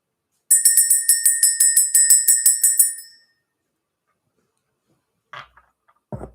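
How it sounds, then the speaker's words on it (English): A small bell is rung rapidly about a dozen times in an even rhythm during a spiritual energy-clearing ritual. The ringing stops abruptly and is followed by near silence with a few faint knocks. "Let's go ahead and ring the bell"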